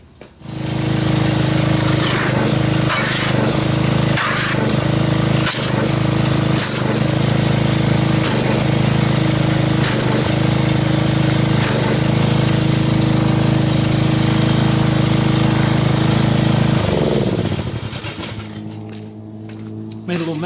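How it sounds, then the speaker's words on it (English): A pressure washer runs loud and steady while its spray agitates car wash soap in a bucket, the droning motor and hissing water continuing for about seventeen seconds with a few sharp knocks before winding down. A voice is heard faintly now and then. "let me get the pressure washer and let's agitate this and see what kind of foamage we get"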